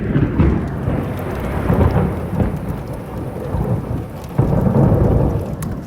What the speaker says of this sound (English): It's raining very heavily today